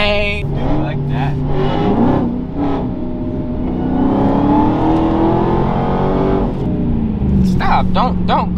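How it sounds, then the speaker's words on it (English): A Dodge Hellcat Charger engine revs hard in race mode, a loud sustained roar rising and falling in pitch for several seconds, with someone talking over it. "Don't grind my freaking pistons to death, car. I know you in race mode and stuff"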